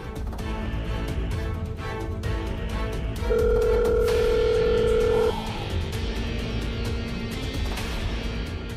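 A single steady ringback tone sounds for about two seconds while a phone call to someone goes unanswered, heard faintly through a telephone line over a low background hum.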